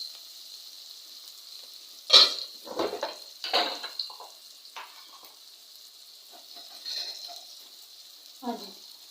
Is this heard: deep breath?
no